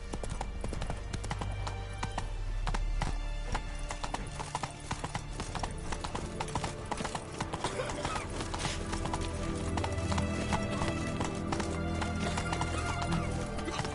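Roach, the horse in The Witcher 3, gallops with a steady, continuous clip-clop of hooves and an occasional whinny, close and loud above a dense game soundscape.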